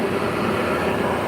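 A shop vacuum runs nonstop during woodworking near a lathe while drop spindles are sanded, a loud, even roar that fills the whole moment with no pauses.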